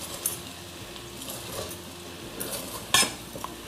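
A spoon stirs potato and beans frying in a pan, making soft scraping and scattered sizzle with a few sharp clinks against the pan, one louder metallic knock near the end.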